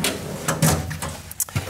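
A pantry drawer in a caravan's outdoor kitchen slides open, giving a few quick, close knocks and rattles in a quiet setting.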